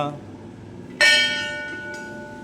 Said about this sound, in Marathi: जरा घंटा वाजूया